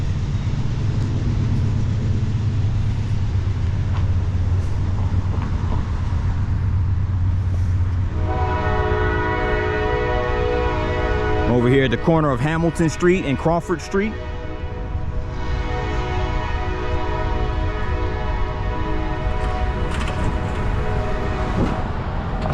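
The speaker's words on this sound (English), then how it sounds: "I see a train moving over there." A passing train sounds a long horn blast with steady harmonic tones over rumbling rail noise at a street corner, heard from a moderate distance while someone speaks nearby.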